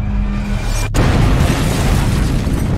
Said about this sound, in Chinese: 比尔亮出手中的炸弹